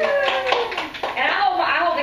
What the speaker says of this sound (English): Let's give her a clap for that.